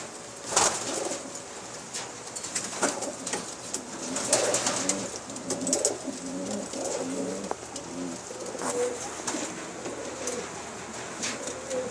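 Rare pigeons of Pakistani stock, including golden-dun birds, coo repeatedly in a loft, low throaty calls overlapping under steady chirps and some wing flapping, close and moderately loud throughout.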